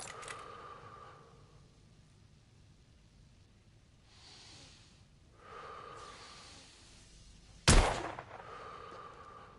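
A single sharp gunshot rings out in the video game The Order: 1886, loud and abrupt amid quiet breathy ambience and low rumbling.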